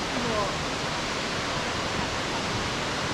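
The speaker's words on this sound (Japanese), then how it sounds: "白ひげの滝めっちゃすごいですよ。" Shirahige waterfall in Hokkaido rushes as a steady, dense broadband roar, loud and unbroken, with a faint voice briefly heard near the start.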